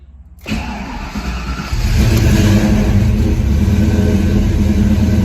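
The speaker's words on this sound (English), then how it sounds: "That is actually the smoothest that this car has cranked since I've been messing with it." A Ford Mustang Foxbody cranks after a new engine install, then fires and settles into a loud, rough running engine note that stays steady up close.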